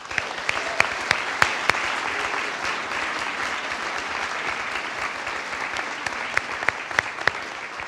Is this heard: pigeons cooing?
no